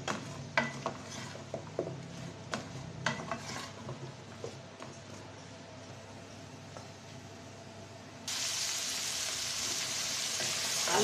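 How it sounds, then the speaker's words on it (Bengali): Potatoes frying in hot oil in a pan with bay leaf and turmeric, stirred with repeated scraping clatters over a steady sizzle that swells louder toward the end. "আলু তেলের উপর একটু ভাজা ভাজা করে নিলাম"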